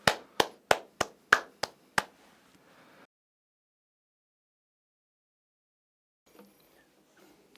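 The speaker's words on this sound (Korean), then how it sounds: "우리 목사님 박수로 모시겠습니다." Hands clap to welcome a pastor at a university staff opening worship service: seven sharp, evenly spaced claps in quick succession, then silence, with a faint stir of sound near the end.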